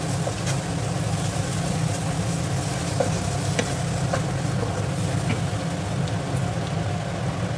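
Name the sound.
stirring spiced jackfruit curry masala frying in oil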